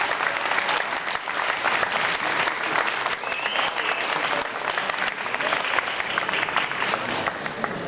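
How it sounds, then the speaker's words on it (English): A crowd at a welcome ceremony claps continuously, a dense, even round of applause that holds steady without fading. "Let us give Amanda a big applause."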